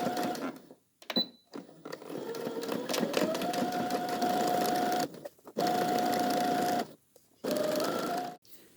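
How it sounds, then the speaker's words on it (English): A sewing machine running a straight stitch along a sleeve edge on an apron: close, even whirring in several runs of a few seconds each, with brief pauses between them and no talk. "stitch along the sleeve edge using a regular straight stitch"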